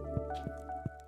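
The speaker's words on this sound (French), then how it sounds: "Ah, il pleut." Rain falling in the Stardew Valley video game, a soft steady patter with a few brief louder drops spread across a short stretch, set over a constant tonal game music bed.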